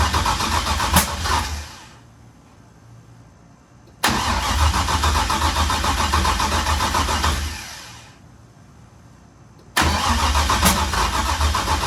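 A Drift V car engine cranks and catches, running loud and rough for a couple of seconds before dying away, then a second start attempt fires and runs, followed by a third start near the end.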